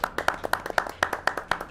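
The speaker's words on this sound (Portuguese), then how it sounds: "Palmas pra equipe técnica também." A single person clapping steadily for a technical team, about a dozen crisp, evenly spaced, close claps with no talk.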